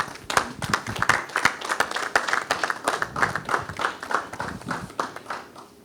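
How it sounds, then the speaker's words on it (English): A round of applause at a Daystar Christian Centre press conference, honoring senior pastor Sam Adeyemi: steady, moderately close hand clapping from a modest gathering, with individual claps distinct and rhythmic throughout. "Please give him a round of applause."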